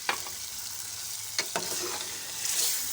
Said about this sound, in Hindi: कलेजी जो है ये अच्छी तरह भून चुकी है